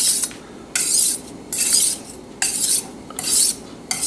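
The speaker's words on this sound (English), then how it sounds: "I just wanted to show you how to sharpen the knife without scratching the blade" A kitchen knife drawn across a sharpening stone with a guide clip holding the angle, close scraping strokes in a steady back-and-forth rhythm of about six rasping passes with short pauses between them.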